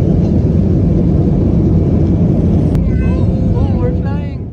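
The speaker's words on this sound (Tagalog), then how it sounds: "lilipad kami nito papuntang Ilocos Norte" Steady loud roar of an airplane cabin in flight to Ilocos Norte, a dense low drone throughout with voices faintly chattering over it toward the end.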